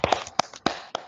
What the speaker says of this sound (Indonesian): Ya, betul, tepuk tangan.